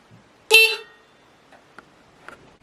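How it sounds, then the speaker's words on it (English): A pocket bike's small horn gives one short, sharp honk up close, followed by faint clicks and quiet handling noises. "The horn."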